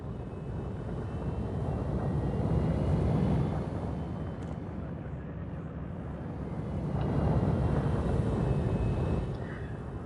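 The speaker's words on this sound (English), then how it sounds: "I love the noise of the engines." Spaceship engines in Elite Dangerous during docking at a station: a steady, deep rumbling roar that swells and eases in two slow waves, with no talking.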